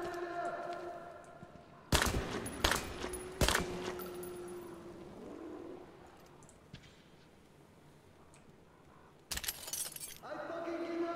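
Gunfire in the video game Metro Exodus, with a few loud broadband shots and metallic clatter, first in a cluster near the start and then again later, separated by quieter stretches of game ambience.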